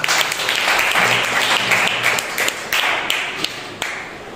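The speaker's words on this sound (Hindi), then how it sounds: "इन नामों के लिए जोरदार तालियां" A congregation claps loudly in a full burst of applause during a prayer service, the dense clapping wavering slightly and breaking into a few sharper individual claps toward the end.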